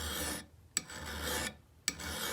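A mill bastard file rasps across the bevel of an axe head in two long strokes, each ending in a sharp scrape, close up and alone with brief pauses in between.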